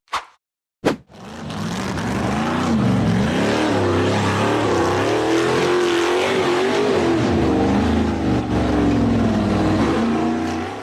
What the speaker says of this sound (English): The orange-brown buggy accelerated up a tall, slippery slope in the forest.